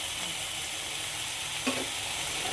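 Drumstick leaves and grated coconut stir-fried in a pan, a steady close sizzle with a brief scrape of the spoon partway through.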